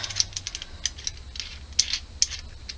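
Moen two-handle kitchen faucet repair tool being screwed in by hand, giving a close, irregular series of sharp metallic ratchet-like clicks over a quiet background.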